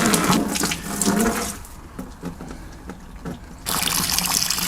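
Coolant trickling and dribbling out of the drain on a 2016-2019 Hyundai Ioniq Electric 28kWh, a steady liquid stream that fades in the middle, then returns stronger, close by with no talk.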